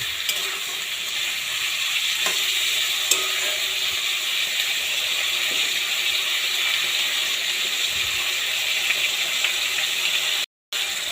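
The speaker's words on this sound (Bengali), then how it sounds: "গ্যাসটাকে একটু বাড়িয়ে দিয়ে মাংসটাকে একটু আমি ভাজা ভাজা করে নেব।" Meat fries in a pan over raised gas heat, giving a dense, continuous sizzle with a few light stirring knocks. It stays loud and steady and cuts out briefly near the end.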